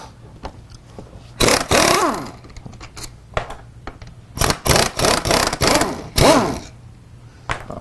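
A pneumatic air impact gun zips bolts off the door hinge of an early-2000s Ford F250 pickup, firing in several loud, whirring bursts of one to two seconds separated by short pauses and light clanks.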